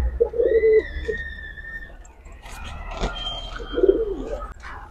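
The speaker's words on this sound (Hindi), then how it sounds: "ये फिक्का कबूतर साफांग का" A pair of pigeons coos softly and repeatedly from close by, with low, throaty calls against a quiet background.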